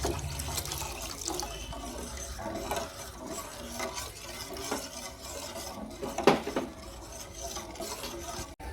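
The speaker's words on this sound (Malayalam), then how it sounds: "ഇതിലേക്ക് നമ്മൾ നേരത്തെ കലക്കി വെച്ച കൂവപ്പൊടി ഒഴിച്ചു കൊടുക്കാം" Arrowroot powder slurry is poured into boiling milk in a pot, making a low, sloshing liquid sound with stirring scrapes and a sharper clink partway through.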